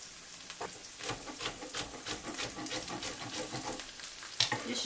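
Onion and pepper frying in oil in a pan give a steady close sizzle with crackling pops and soft stirring scrapes throughout, no voices.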